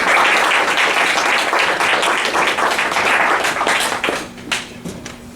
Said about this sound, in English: So I'd like you all to give a round of applause for Dr. Artur Luček.